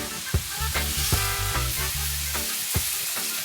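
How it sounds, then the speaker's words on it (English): Chicken pieces being sautéed in a pan for Jamaican brown stew chicken give a steady sizzle, with several sharp clicks of stirring and scraping over a low, continuous frying hiss. "you'll saute this for maybe 2 to 3 minutes"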